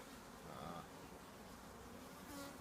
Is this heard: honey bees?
yes